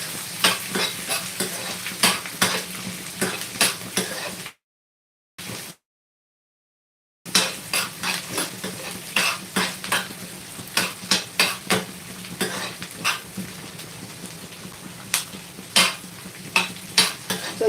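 Ginger and garlic frying in a pan, stirred with a utensil that knocks against the metal in a steady rhythm over a continuous sizzle, broken by a brief silent gap.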